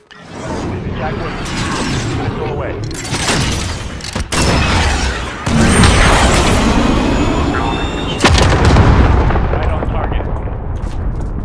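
A Call of Duty Modern Warfare (2019) cruise missile strike erupts in loud, rolling explosions, heavy booms and crackling blasts building over several seconds, with gunfire-like bursts layered in and voices talking over the chaos.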